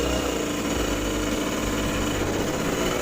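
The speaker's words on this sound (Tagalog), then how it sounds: "Saka ito yung motor namin, nagloloko pa." A motorcycle engine runs unevenly at idle, a steady close mechanical rattle and hum with no voices.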